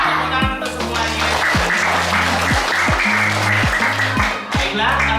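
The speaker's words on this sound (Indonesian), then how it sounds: "Tepuk tangan untuk semuanya." Applause for elementary school pupils at SD Negeri 3 Indonesia, steady and loud throughout, with a recurring patterned tone or music riding underneath the crowd clapping.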